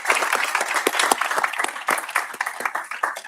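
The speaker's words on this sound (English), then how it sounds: "So a huge round of applause to Dr. Kircher and all the staff involved for creating that opportunity." Audience at a school board meeting applauding, a brisk mix of many hands clapping with some individual claps standing out, continuous for a few seconds.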